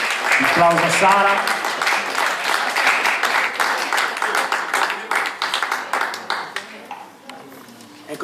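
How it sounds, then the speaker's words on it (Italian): Applause from a live music audience in a club opens loud and dense, with a voice cutting in briefly, then thins into scattered claps that fade away. "Un applauso a Sara"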